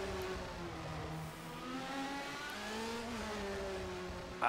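A GP2 race car engine is held in second gear through a corner complex, its whine rising and sagging in pitch, fairly faint and steady, with a brief sharp burst right at the end.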